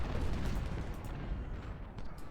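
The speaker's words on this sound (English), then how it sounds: "God, there's cannons coming in as well." Cannon fire in the Civil War strategy game Ultimate General: Civil War, low rumbling booms rolling into one another at moderate distance, a continuous heavy barrage without speech.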